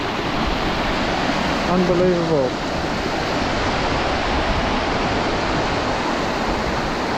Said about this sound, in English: Got this great little river coming down.